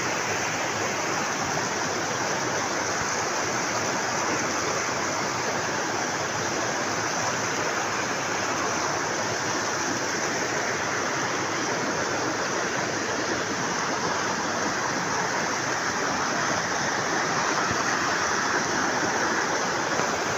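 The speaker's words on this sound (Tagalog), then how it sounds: "Yan, ang falls." A waterfall in a deep spot gives a steady, dense rushing roar of falling water that stays even throughout, with no voices.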